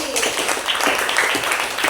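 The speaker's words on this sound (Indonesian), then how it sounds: "Tepuk tangan lagi." A classroom full of students applauds, a dense burst of clapping that fills the whole moment at close range.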